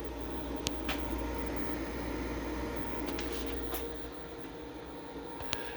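An EG4 6000XP inverter pulling 5,000 watts from its AC input: a constant electrical hum and fan-like whir drones steadily, with a few faint clicks scattered through it.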